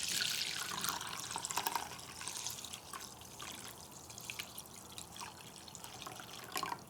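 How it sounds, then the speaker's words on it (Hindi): Water being poured into a vessel and mixed into kanji, a fermented drink for kanji vada, with a soft trickling, splashing flow and faint stirring, quiet and close throughout. "और फिर इसमें 1 लीटर पानी मिला देंगे।"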